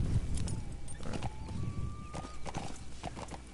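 Horse hooves clip-clopping in the video game Metal Gear Solid V: The Phantom Pain, a steady walking rhythm of hoof beats at moderate distance, with a faint whinny and tonal game ambience beneath, and no talk.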